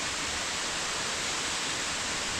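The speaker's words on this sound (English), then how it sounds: "Spoon Creek Falls." Spoon Creek Falls waterfall on a hiking trail, a steady broadband roar of falling water filling the scene without a break, loud and close, with no voices over it.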